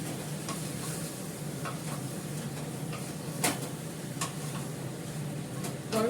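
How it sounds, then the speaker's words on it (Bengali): Two dried red chilies crackle and sizzle in hot oil in a home kitchen, a steady close frying hiss broken by a few sharp pops and occasional utensil taps, with no voices. "শুকনো লঙ্কাটা ফাটিয়ে দিই, ওটা ঝাল হবে।"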